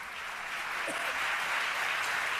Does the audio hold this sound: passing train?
no